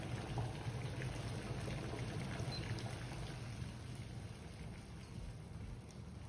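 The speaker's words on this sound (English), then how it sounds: "our water will come straight back to a rapid boil" Water at a rapid rolling boil in a pot on an induction cooktop, a steady close bubbling and churning with a constant low rumble, sustained throughout without talk.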